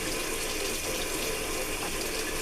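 A bathroom tap runs in a continuous, even rush of water into a sink, steady and fairly close with no breaks.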